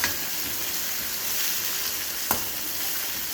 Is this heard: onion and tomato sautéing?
yes